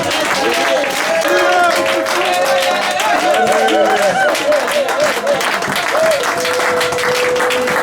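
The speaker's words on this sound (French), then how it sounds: "Applaudissons pour le Seigneur" Congregation applauding during a church sermon, clapping mixed with sustained music and singing voices that dominate, loud and continuous.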